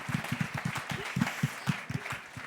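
An audience applauding at a conference panel, a steady run of hand claps in a quick, fairly regular rhythm, close and moderately loud.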